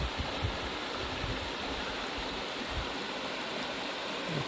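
Cedar Creek on the Ozark Highlands Trail rushes over rocks, a dense, even wash of flowing water heard up close, with no voices.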